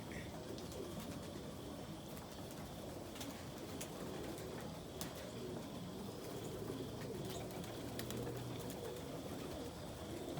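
Almond ballhead roller pigeons cooing softly inside a loft, a low steady murmur of coos under a dense background hum with occasional faint chirps, no talking.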